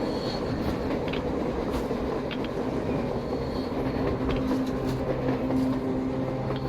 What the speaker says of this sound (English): A train! A damn train on the surface!